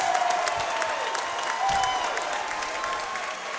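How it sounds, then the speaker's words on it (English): Steady applause from a crowd at a Shamrock FC mixed martial arts event fills the whole stretch, a dense wash of clapping with a few faint cheers mixed in. "let's give both of these fighters a big round of applause"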